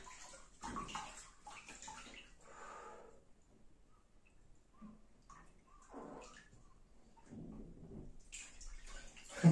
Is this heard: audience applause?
no